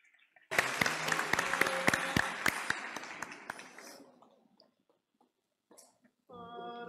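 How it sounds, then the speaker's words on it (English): Applause at an international award ceremony in Istanbul, a roomful of hands clapping loudly for about three seconds, then thinning and fading into near silence, before a voice and a brief tone come in at the end. "With a round of applause."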